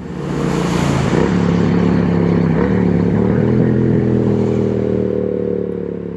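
Triumph Street Twin 900 motorcycle, tuned, with a TEC 2-into-2 exhaust, riding at steady speed: a loud, continuous parallel-twin engine drone close up, with a slight rise in pitch early on and wind rush, no talking.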